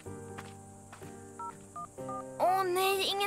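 Telephone dialing tones beep as keys are pressed, with a few short tone pulses among soft room sounds, followed by a louder ringing burst near the end.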